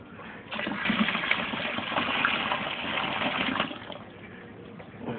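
Water gushes steadily as it is poured into a homebrewing kettle, a dense, rushing splash that runs for about four seconds and then tapers off, with no talking.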